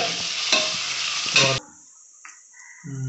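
Onions frying in a pan with ginger garlic paste for a mutton gravy give a loud, steady sizzle with stirring scrapes, which cuts off abruptly midway, leaving brief faint clinks before a low hum returns.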